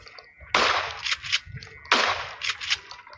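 Two loud, sharp shotgun blasts ring out about a second and a half apart in the mobile battle-royale game PUBG Mobile, each with a short echoing tail.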